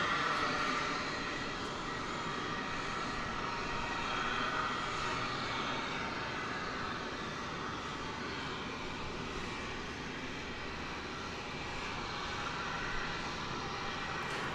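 A 1991 airliner from Louisville at DFW Airport produces a long, steady, moderately distant engine roar that stays even in level for the whole stretch, with no talking.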